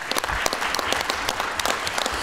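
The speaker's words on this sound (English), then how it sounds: "Let's give our friends and partners at Exxon a round of applause" Audience applause at an ExxonMobil celebration in Baton Rouge, a lively crowd clapping with sharp individual claps standing out near the microphone over a steady bed of hands.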